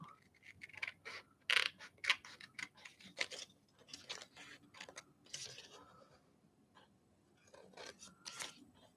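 Scissors cut out a sticker paper design in a series of close, crisp snips and rasping paper slices, coming in irregular bursts with brief pauses between.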